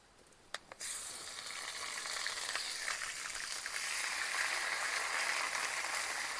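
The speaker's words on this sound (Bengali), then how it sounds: "আদা রসুন একটুখানি ভেজে নেব, কারণ আদা রসুনের কাঁচা কাঁচা গন্ধ রয়েছে" Ginger-garlic paste hits hot oil with whole spices (garam masala, dried red chilli, cumin, cracked cardamom and bay leaf) while cooking a potol dish. A few sharp clicks give way to a loud, steady, close sizzle.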